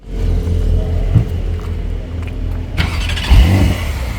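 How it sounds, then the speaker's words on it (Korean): A Porsche 4 GTS engine rumbles at idle with a deep, steady exhaust burble, then rises into a louder rev near the end, heard close with no talk. "배기음도 생각보다 아주 짜랑짜랑하고 좋았습니다"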